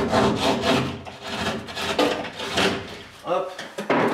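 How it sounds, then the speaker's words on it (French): Rapid back-and-forth rasping of a small drywall saw cutting through plasterboard while renovating a bedroom in an abandoned house, close and continuous, with a voice talking over it. "c'est une petite scie à placo qui est bien utile"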